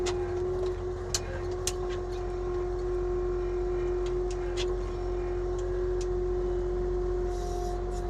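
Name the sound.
Avant compact loader being driven to its parking spot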